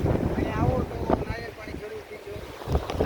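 Sea waves surge and crash near a lighthouse on the rocky coast at Gopnath Mahadev near Bhavnagar, Gujarat, a rolling roar with strong wind buffeting the microphone and voices talking over it.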